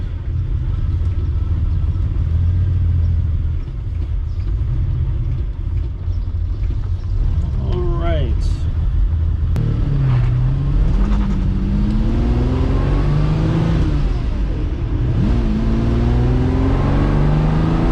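A Ferrari engine runs after a new fuel pump was fitted, idling with a steady rumble then revving up in rising sweeps; a voice speaks briefly.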